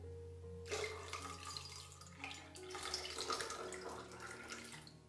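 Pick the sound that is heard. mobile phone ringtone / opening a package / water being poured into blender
water being poured into blender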